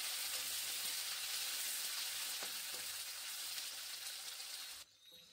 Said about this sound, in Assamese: ইয়াত এতিয়া মই বিলাহী দুটা কাটি দিছো ডাঙৰ চাই এইখিনি হিজিবৰ কাৰণে মই অকমান দেৰি লৰাই থাকিম